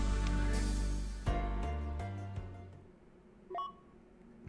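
Synthetic electronic computer tones from the video game Another Eden play as a file is opened: a sustained buzzing chord followed by a few short stepped beeps that fade out.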